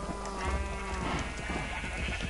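Sheep bleating during shearing in a Minecraft-style survival world, a few wavering bleats over steady game background noise with no talk.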